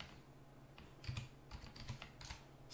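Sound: typing a command on a computer keyboard

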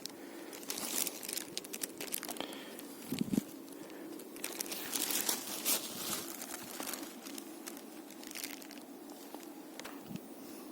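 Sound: plastic bag crinkling while holding gathered oregano

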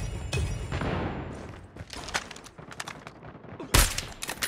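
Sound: gunfire in the video game Call of Duty Mobile

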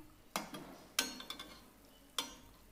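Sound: sweet tikkis frying in oil

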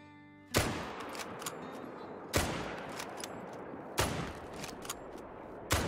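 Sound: gunfire from the hunting video game Call of the Wild

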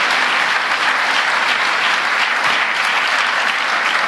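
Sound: audience applause for President Biden

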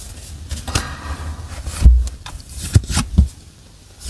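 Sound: drawing tarot cards

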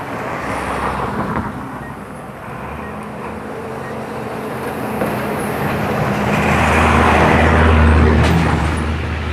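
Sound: truck passing by on road

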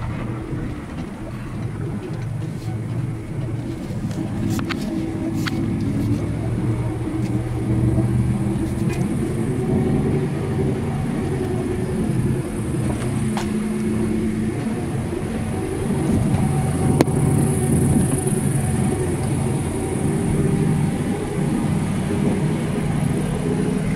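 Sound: vehicle driving up a drive

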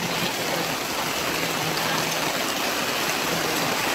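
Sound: rain

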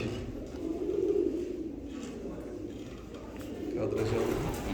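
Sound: costume pigeons cooing

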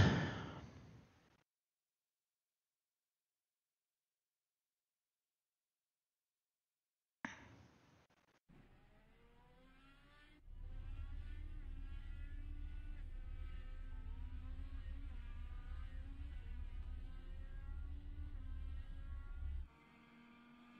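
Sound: race car engine noise in the iRacing video game

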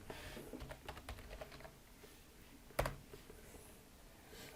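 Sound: typing on a computer keyboard

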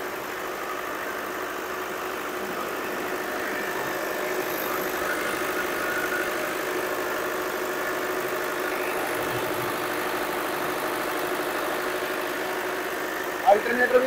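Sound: Kirloskar 40 kW four-cylinder generator running

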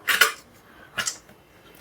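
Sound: pressure cooker being placed on the stove

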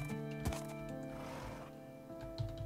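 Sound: horse in Minecraft video game

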